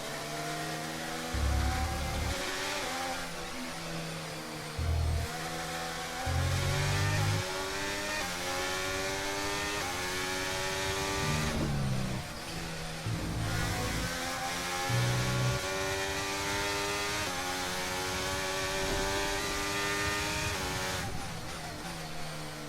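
Formula 1 race car engines in an F1 23 video game race, revving and shifting through gears in repeated rising whines with brief drops, loud and continuous with no talk.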